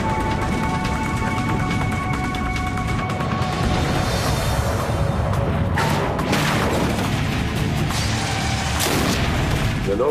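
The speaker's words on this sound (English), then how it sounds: "The nose hit with quite a bang on the runway" A Boeing 767 crash landing without engines, the nose slamming onto the runway with a loud bang and crashing impacts amid rumbling noise, followed by further heavy thuds.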